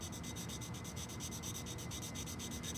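Steady, rapid back-and-forth rubbing of fine sandpaper lightly refacing a glass crystal clarinet mouthpiece, soft and close, in an even rhythm with no talking.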